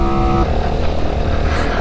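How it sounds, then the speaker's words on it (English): A 2022 Sinnis SM-XE 125 dirt motorcycle climbs a hill at full throttle in fourth gear at a steady 30 mph. The small engine drones loud and continuous with a buzzy tone, accompanied by wind rush. "I'm full throttle in 4th gear, staying at a steady 30 miles an hour up the hill"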